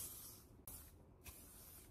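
Hairspray is misted from a distance onto blow-dried frizzy hair to set the style. It makes faint, close hissing bursts, with a brief cut in the spray partway through.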